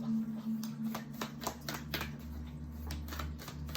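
Tarot cards are shuffled in quick riffling bursts, a series of crisp flutters and taps repeating close by over a low background hum.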